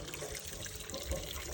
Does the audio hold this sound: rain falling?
no